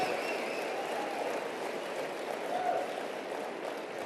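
Sustained applause from a large live audience at a motivational speaking event, a steady dense wash of clapping throughout with no talk over it.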